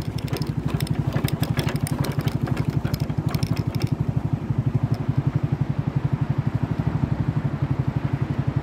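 A motorcycle engine runs steadily close by on a road trip to a mountain temple, its rapid, even thumping pulse continuous throughout, loud, with a brief patch of brighter rattling noise early on.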